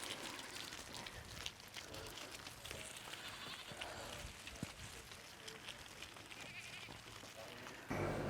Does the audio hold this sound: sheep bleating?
yes